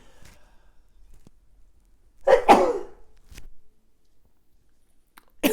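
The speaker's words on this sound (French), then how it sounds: "Excusez-moi, je vais éternuer." One close, sharp sneeze bursts out of near silence, preceded by a faint intake and followed by a few quiet clicks and breaths.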